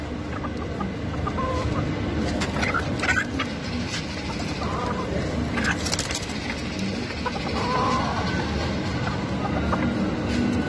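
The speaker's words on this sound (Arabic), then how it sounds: "ذني ثلاث دجاجات وديج" Three Belgian bantam hens and a rooster at an animal and bird market cluck in short, repeated calls, close by, over a steady hum of market noise and distant traffic.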